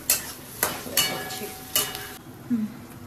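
Vegetables fry in a pan for fried rice, with several sharp spatula scrapes and knocks against the pan over a soft sizzle, close and fairly loud.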